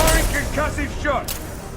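A Concussive Shot ability fired in Mass Effect 2, heard as a short burst of gunfire-like booms mixed closely with a voice talking.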